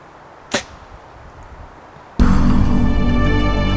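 A hunting bow releases an arrow at an elk at 112 yards, a sharp loud snap and whoosh, followed after a short pause by a sudden loud, sustained rushing noise.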